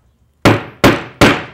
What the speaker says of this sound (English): It usually takes about 3 whacks to get the letter just right